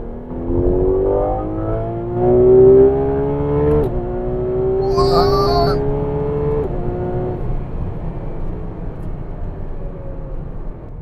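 A Ferrari 12Cilindri's smooth, high-revving V12 engine climbs through several gears with a clean harmonic wail, each shift a brief dip, then settles into steady cruising hum.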